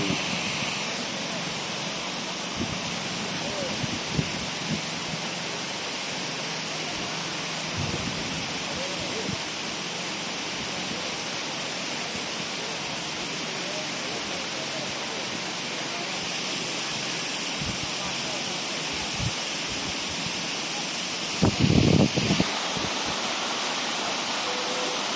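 Sri Getuk waterfall in Gunung Kidul, Yogyakarta, gives a steady, dense roar of falling water that fills the scene, with a brief louder thump partway through and no talking.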